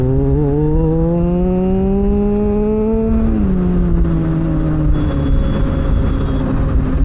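A BMW superbike engine drones loud and close while riding, its pitch climbing steadily, dropping with a gear change and then holding a steady roar.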